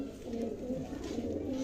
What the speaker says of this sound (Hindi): में लाल सिराजी कबूतर है, लाहौरी सिराजी